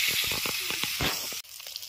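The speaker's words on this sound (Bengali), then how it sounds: "প্রথমে মাছগুলো ভেজে নিই।" Fish frying in oil crackles with a dense sizzle full of quick pops and spits, loud and close, dropping briefly before resuming more quietly.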